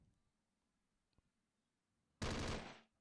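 A single loud burst of automatic gunfire in a modded strategy video game lasts under a second and breaks a near-silent stretch.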